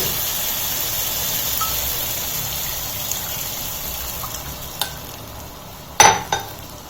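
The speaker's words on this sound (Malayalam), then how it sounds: "ഇനി നമുക്കിതിലേക്ക് ഈ 3-ാം പാൽ ഒഴിക്കാം" Third coconut milk being poured into a simmering fish molly curry in a pan, a steady soft sizzle and trickle followed by a couple of sharper clinks and splashes near the end.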